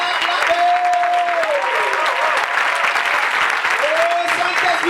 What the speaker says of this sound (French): Oh, Saint-Esprit, reçois nos acclamations ce matin.